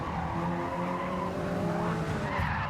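Race car in Gran Turismo 7 during a Le Mans daily race skids through gravel: a sustained engine drone with a rough, scraping skid that holds steady for a few seconds, loud and continuous.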